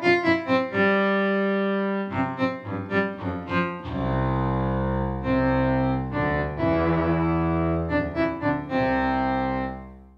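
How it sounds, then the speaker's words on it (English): Synthesized bowed piano patch from an FM synthesizer: a sequence of sustained, harmonically rich notes with swelling attacks, some clustered in quick repeated strikes and others held for a second or more, played alone. "which is our bowed piano sound"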